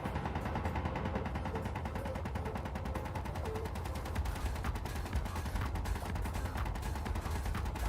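Guns firing in Space Engineers, a steady stream of rapid, fairly faint automatic shots rattling on continuously over a dense background din.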